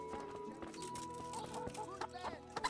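Chickens cluck near a coop in the video game Kingdom Come: Deliverance. The clucks come as faint, scattered short calls over a quiet, busy game ambience.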